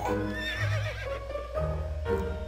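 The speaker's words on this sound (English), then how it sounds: "Ooh, a horse." A horse neighs in the video game To The Moon, a clear, close whinny that rises and falls over about two seconds with game ambience beneath.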